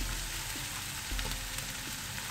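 Onions fry gently in a pan with a faint, continuous sizzle up close, quiet and even, with a few soft ticks and no speech.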